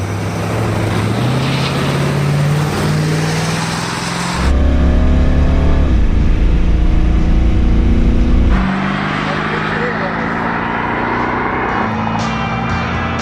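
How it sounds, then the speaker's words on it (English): Loud engine roar of a classic and a new Mustang GT500 revving and accelerating hard on a drag strip, with a deep low rumble surging mid-way, then easing to a steadier drone. "from a classic Mustang GT500 to the new one on the drag strip"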